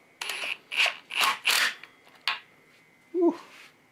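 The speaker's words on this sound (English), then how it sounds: "we're going to very carefully crack this oil pan in half" Prying apart the oil pan of a 5-cylinder engine during a teardown, producing a series of about five scraping, creaking bursts followed by one lower groaning pull, close and fairly loud with no talking.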